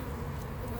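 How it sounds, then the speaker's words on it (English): Young nurse honeybees on an opened hive in early spring, a dense, steady buzzing hum close by with no break and no voices over it. "these are all young nurse bees"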